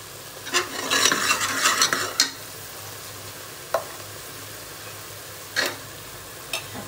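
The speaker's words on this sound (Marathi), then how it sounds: "चांगला मसाला मी भाजून घेणार आहे." Masala being roasted for a village-style chicken curry, with a spoon scraping and clattering against the pan in a busy burst, then separate sharp scrapes spaced apart, and a faint sizzle beneath.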